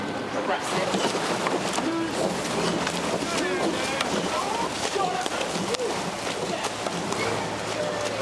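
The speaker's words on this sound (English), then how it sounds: "You can hear the power of the eights as they roar off those start pontoons" Rowing eights surge off the start pontoons at Henley Royal Regatta on the Thames amid a loud, continuous wash of splashing and rushing noise, with voices shouting and talking throughout.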